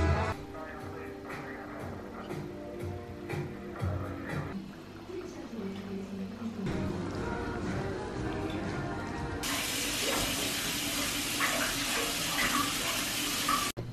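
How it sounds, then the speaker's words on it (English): Hot water runs from a tap into a kitchen sink, the flow changing in pitch as the basin fills and then turning into a louder, brighter hissing stream near the end, with no talk over it. "When we put hot water inside the sink"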